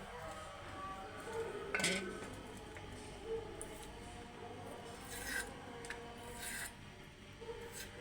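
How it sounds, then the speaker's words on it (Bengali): A knife cuts moringa drumstick pods for a lentil curry, giving rasping, scraping strokes with a few sharper cuts spaced apart. Soft voices murmur in the background. "সজনেগুলো কেটে নিতেছেন"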